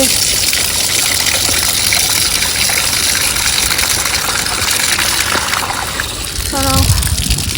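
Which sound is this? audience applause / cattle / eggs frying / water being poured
water being poured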